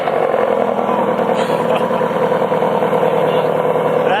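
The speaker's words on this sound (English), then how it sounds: "Let's go ahead and get a cold start up. Cold start of this V8." A Ford Shelby GT350 Mustang V8 fires up from cold and settles into a loud, steady, rumbling high idle, close and continuous with no talking.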